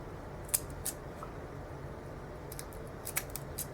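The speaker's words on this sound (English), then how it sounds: "So, I'm going to cut off the extra around the whole thing." Small scissors snip around the edge of a handmade mini book charm, giving faint, crisp cuts spaced irregularly over a quiet background, with a cluster of snips near the end.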